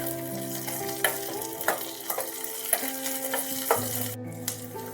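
Cashews, spices and curry leaves fry in mustard oil, a steady sizzle with regular spoon-and-pan clinks about once a second, set against sustained tonal background music.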